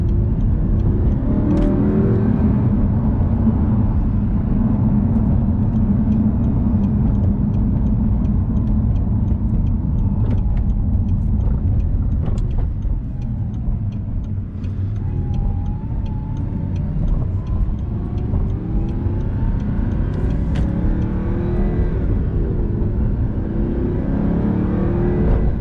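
A stock 4.2-litre V8 in a 2009 Audi R8 drones loudly and steadily from inside the cabin while driving, with swells of revving and road rumble throughout.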